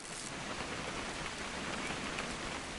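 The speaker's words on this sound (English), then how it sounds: "It's gonna rain the whole weekend, isn't it?" Steady, even rain falling over a weekend, a dense hiss that stays constant throughout with no voices.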